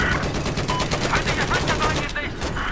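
Dense rapid gunfire from Battlefield 4 on PS4, with overlapping automatic bursts rattling continuously in a chaotic firefight.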